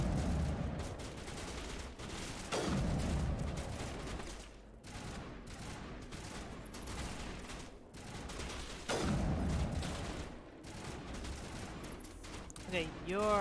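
Heavy-recoil gunfire in Mass Effect 1 comes in several loud bursts separated by short lulls, with combat effects and a brief electronic warble at the end.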